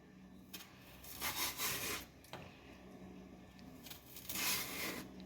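Raw banana peel being pulled away in two broad tearing strokes, a close, dry rubbing rasp that swells and fades with each pull, with no voices.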